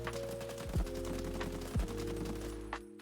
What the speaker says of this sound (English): The AK-101. Firing full auto at range.